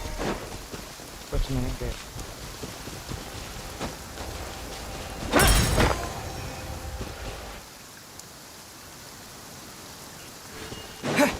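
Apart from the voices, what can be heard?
rain and thunder in video game Genshin Impact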